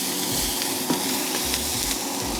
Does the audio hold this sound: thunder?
no